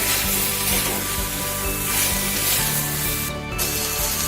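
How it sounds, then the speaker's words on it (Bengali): Potato pieces sautéing in spice paste and hot oil give a loud, dense hiss right up close, with a regular scrape-and-knock of stirring running under it and no speech. "এই যে এখন আমি আলুটা দেব, আলুটা দিয়ে কিছুক্ষণ আমি কষাবো"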